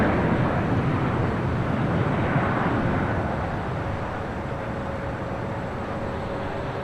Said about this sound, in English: It's the Turkish A350-900 taking off to Istanbul